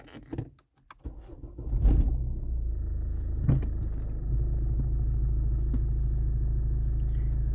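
A Renault Megane's turbocharged engine cranks and catches, then settles into a steady low idle rumble after a few clicks and thumps.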